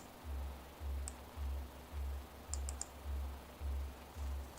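A few sharp computer keyboard key presses, including the Enter key, while working in AutoCAD. The clicks are sparse and faint over a steady low rhythmic throbbing hum.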